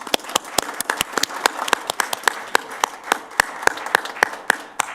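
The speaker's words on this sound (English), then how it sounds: "give those students a round of applause for the work that they did" An audience at a public governing board meeting applauds the students of the month, with crisp, distinct hand claps in a fairly brisk, uneven rhythm that carry steadily for several seconds and stand close and clear without talk.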